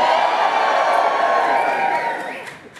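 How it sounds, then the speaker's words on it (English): A large concert-hall audience at a comedy music show roars with sustained cheering, whoops and applause, loud and dense throughout before tapering slightly at the end. "just by show of noise and woos and applause and whatever the hell you feel like doing"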